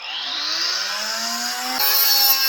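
A Parkside PWSAM 20V cordless angle grinder cuts with a disc, giving a steady, loud, close high whine whose pitch jumps up near the end, with no voices.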